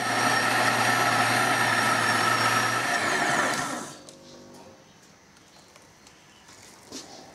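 An electric mixer beating a runny yogurt biscotti batter with sifted flour, a loud steady motor whir for about four seconds before it winds down and stops, leaving a quiet room.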